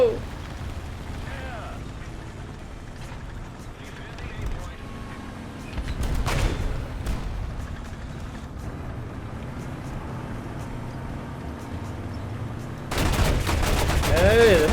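30 mm cannon fire from the Zerstorer 45 in War Thunder, heavy bursts of shots with a loud cluster in the middle and another near the end over a steady engine drone.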